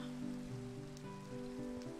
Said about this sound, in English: It's so hard to tell when it's raining what time of day it is.